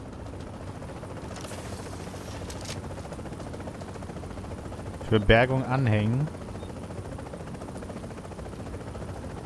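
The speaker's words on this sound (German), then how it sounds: "Der Heli ist da." In a The Division video game match, a helicopter arrives for extraction, its low engine and rotor thrum droning steadily in the background while someone speaks briefly over it.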